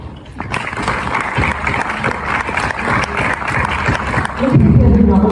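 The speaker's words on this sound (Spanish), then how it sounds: "Un aplauso" An audience at a dramatized reading breaks into applause, a moderately loud clatter of clapping with some crowd murmur and voices mixed in, swelling a little toward the close.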